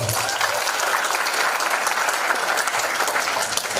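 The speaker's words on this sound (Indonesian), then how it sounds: "Tepuk tangan untuk beliau" An audience at a cultural address in a university forestry faculty applauds Gus Baha, a full, even burst of clapping sustained throughout without a break.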